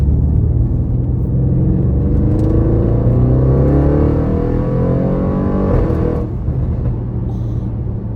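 Loud, close exhaust of a 730 bhp Revo Stage 2 Audi RS7 with a Milltek exhaust roaring as the engine accelerates, the tone rising steadily through the revs before easing off near the end.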